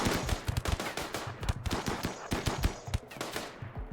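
Rapid bursts of gunfire in the video game RimWorld, dense overlapping shots crackling irregularly for about four seconds at moderate loudness, without speech.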